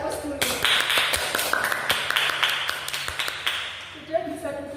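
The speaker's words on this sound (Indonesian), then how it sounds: "Berikan aplaus dulu." A school class applauds after a group presentation, a burst of scattered hand claps rising and thinning out over a few seconds in a classroom, with a voice speaking briefly over it.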